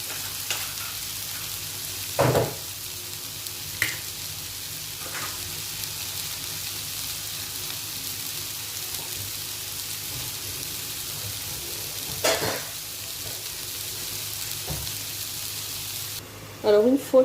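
Butter sizzles and melts in a pan as the base for a béchamel sauce in a vegetable and minced-meat lasagne, giving a steady close frying hiss broken by a few sharp clanks of a utensil against the pan.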